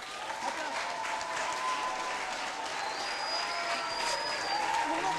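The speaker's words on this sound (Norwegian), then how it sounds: "Applaus! Applaus!" Audience applause at a group gathering, steady dense clapping sustained for about five seconds at moderate level with faint voices mixed in.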